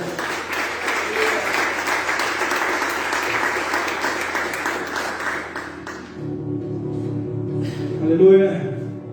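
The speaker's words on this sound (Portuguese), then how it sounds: "aplauda bem forte o Senhor" A church congregation claps loudly and steadily for several seconds, then the clapping gives way to a voice speaking over a softer musical background.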